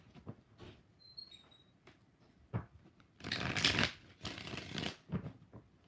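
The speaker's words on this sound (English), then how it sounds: "2 more shuffles." Tarot cards being shuffled during a live reading, several separate riffles and rustling bursts, close up, with a longer louder run of shuffling in the middle and quiet gaps between.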